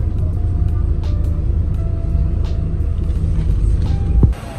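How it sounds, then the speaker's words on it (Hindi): Steady low rumble of a double-decker bus heard from the front seat of the top deck, engine and road noise droning continuously with a few faint knocks, then a brief louder bump near the end. "मैं बस के ऊपर बैठा हूँ, डबल डेकर बस है, सबसे ऊपर बैठा हूँ ड्राइविंग सीट वाली सीट पे।"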